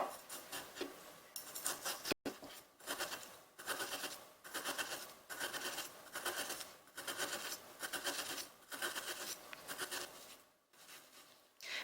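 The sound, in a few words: knife slicing a chunk of meat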